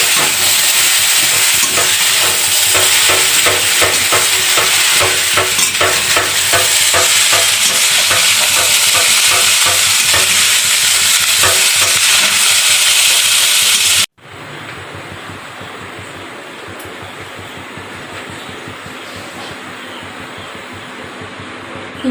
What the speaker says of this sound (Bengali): ডিমটা ভেজে নিয়ে